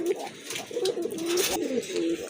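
Large Giribaz pigeons cooing close by, a steady low warbling coo that repeats in a rolling pattern, with faint background noise behind it.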